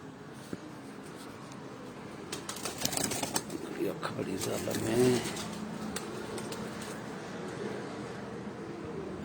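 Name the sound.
Galwe pigeons cooing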